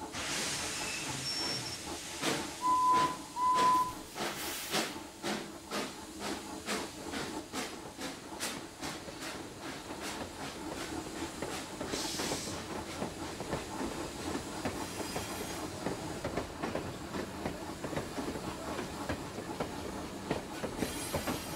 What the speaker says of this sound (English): As Cherry puffed away, Lizzie puffed in and noticed Cale's express